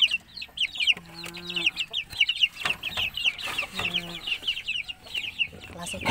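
Native chickens and month-old chicks on a farm in Clarin, Bohol cluck and peep close by, bright chirps running throughout with a couple of louder hen calls standing out.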